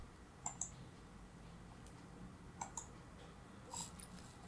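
A computer mouse clicks faintly a handful of times, in two quick pairs and then a softer click, over a quiet steady room hum with no speech.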